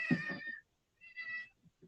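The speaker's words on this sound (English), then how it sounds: "My cat is meowing at me very loud." A house cat meows loudly twice indoors, each call drawn out and nasal, with a short silent gap between them, close to the listener and with no talking.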